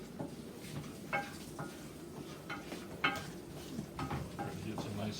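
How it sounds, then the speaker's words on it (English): Food sizzles quietly in a pan during basil pesto preparation, with a spoon or utensil scraping and clinking against the pan now and then over a steady low frying hiss, heard at a modest level with no voices. "here's some sizzle. Let me stir this a little bit."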